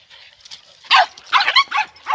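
Several sharp dog barks and yelps come in quick succession at a dog park, close and loud, with a snarling, scuffling quality as a Kangal and another dog corner a smaller dog.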